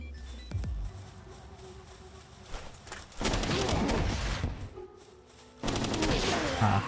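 Grenade launcher fire and explosions crackle in a bout of Palworld gunplay, with rapid bursts of shots and booms in loud clusters separated by quieter stretches.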